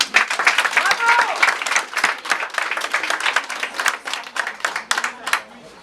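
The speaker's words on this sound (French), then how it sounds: "Donc je voudrais qu'on l'applaudisse très fort." An audience at a women's day gathering applauds warmly, a close, dense patter of individual claps that rises, stays lively and gradually thins out, with a few voices murmuring underneath.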